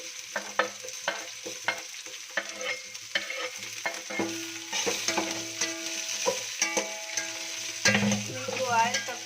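Onions sizzling in hot oil for vegetable pulao, with repeated clinks and scrapes of a spoon stirring in the pan, close and clear, the frying hiss rising steadily as the stirring continues.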